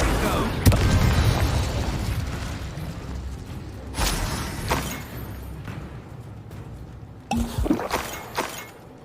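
Fire spell Incendio cast in Hogwarts Legacy on PS5: several loud, sharp bursts with whooshing, crackling tails rise over a rumbling game background, spaced a few seconds apart.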